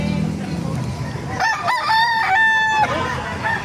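Rooster at a poultry market in Baliuag crows once loudly and close, a drawn-out call over faint background chatter and market noise.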